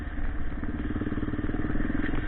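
A Yamaha XT600 E single-cylinder motorcycle is ridden on throttle through a stretch of dirt, its engine thumping in a steady, close, pulsing rhythm with some clatter, loud and continuous without any talk.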